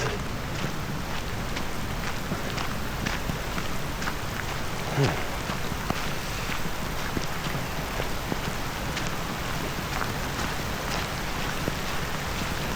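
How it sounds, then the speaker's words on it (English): Heavy rain pours steadily in Japan, a dense hiss of drops hitting surfaces with scattered sharper patters, constant and close throughout. "the rain like kind of double intensity in like a few seconds"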